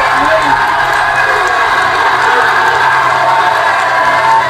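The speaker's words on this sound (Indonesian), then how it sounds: "silakan berikan apresiasi dan aplaus dulu deh" Cheering and applause from a crowd of debate supporters at a vice-presidential debate watch party, a loud, dense and continuous roar with whoops and shouts throughout.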